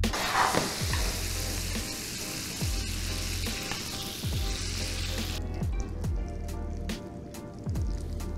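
Halibut cutlets sizzle steadily in a hot pan as butter is added, with bubbling, spattering oil and a few soft knocks and clinks of a utensil against the pan, close and continuous.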